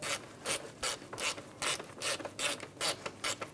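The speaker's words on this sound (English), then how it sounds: "Now we're going to tighten down these bolts." A ratchet tightens bolts on a Ford Expedition AC condenser in quick bursts of rapid clicking, close and moderately loud, with short pauses between strokes.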